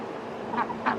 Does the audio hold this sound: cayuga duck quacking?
yes